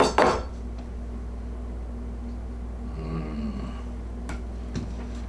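A roast pan lifted out of a home oven after cooking, giving a sharp clank at the start and a couple of light metallic knocks later over a steady low kitchen hum.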